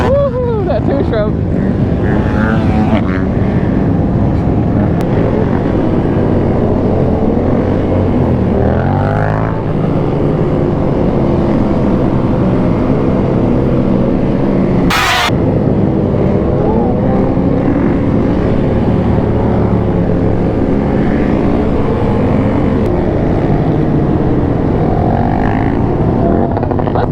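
A two-stroke Yamaha YZ dirt bike engine buzzes and revs steadily near a Miami gas station, loud and continuous throughout, with a sharp brief burst midway and voices mixed in beneath.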